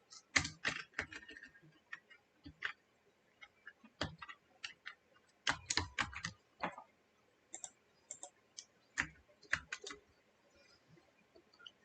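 Keys of a computer keyboard tapped in irregular bursts of sharp clicks, close and fairly quiet, with short pauses between runs of typing while writing Arduino motor-control code.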